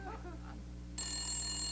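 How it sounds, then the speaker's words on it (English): A telephone starts ringing partway through, a bright steady electronic ring over a low hum, loud and close, in a comic family mockumentary scene. "Phone."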